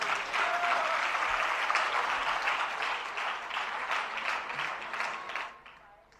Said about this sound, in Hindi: जरा जोरदार तालियां पारस जी भाई साहब के लिए।